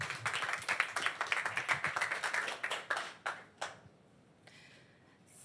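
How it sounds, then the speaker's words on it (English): A conference audience gives a short round of applause, a burst of individual claps that thins out and dies away after a few seconds, leaving near silence with a few stray claps. "Please, give her a round of applause."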